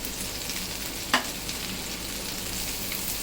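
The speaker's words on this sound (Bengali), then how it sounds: "এখন এখানে দিয়ে দিব 1 টেবিল চামচ রসুন কুচি।" Chopped garlic fries in melted butter over medium heat with a soft, steady sizzle. A single sharp utensil clink stands out partway through. It is quiet and close, with no talk.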